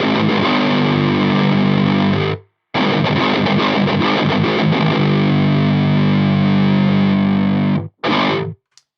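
Cranked electric guitar runs through a Belcat distortion pedal and a Precision Drive clone, giving loud, thick sustained chords with a sharp cut partway through, then a brief final stab before stopping.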